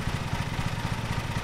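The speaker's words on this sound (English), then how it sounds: "Hold Z to start your vehicle's engine. Oh, listen to the purr." Steady idling lawn mower engine in the Lawn Mowing Simulator game, a continuous low throbbing purr with a fast regular pulse, close and even throughout with no talk over it.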